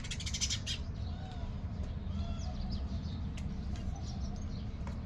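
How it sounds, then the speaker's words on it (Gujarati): Sparrows chirp at an outdoor bird feeding spot where grain is scattered, with faint, thin chirps clustered at the start over a low steady background rumble. "જો આ ચકલી"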